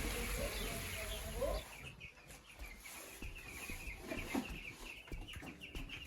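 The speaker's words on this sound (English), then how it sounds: "So right now we're gonna be shifting those chickens." Broiler chickens cluck on a South African farm, with a steady mass of soft clucks and chirps from a flock nearby, over rustling and a low background hum.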